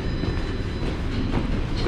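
A TTC subway train at Toronto Union Station rumbles steadily throughout, with a dense low roar of wheels on rails and a faint clickety-clack, close and loud with no talking.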